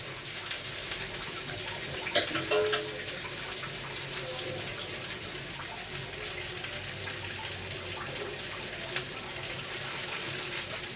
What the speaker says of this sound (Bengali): এখন আমি তেল দিয়ে দিচ্ছি